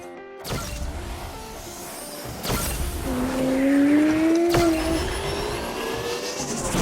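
A Camaro races on a wet track in a PlayStation 5 racing game, its engine revving and rising in pitch with some tire hiss and squeal, loud and close with no voices.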